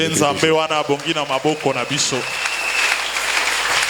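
A church congregation breaks into a short burst of clapping right after a preacher finishes speaking, the applause filling the room for a couple of seconds.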